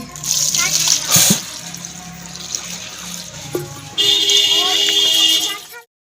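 Cold water pours in a steady, loud rush from a tap into a pot or sink in a home kitchen, with a brief louder splash early on, clanks of a vessel, and a second strong burst of flow before it stops.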